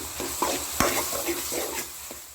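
Tomatoes sautéing in a pan for mushroom kothu parotta, a continuous close sizzle broken by a few quick spatula scrapes and taps.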